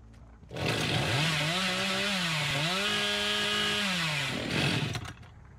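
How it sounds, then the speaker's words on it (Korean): Chainsaw from the horror video game Dead by Daylight revving steadily at close range for several seconds, its buzzing pitch rising and dipping with the throttle, with no talk over it. "전기톱은 근데 멀리서 해도 소리 다 들려요."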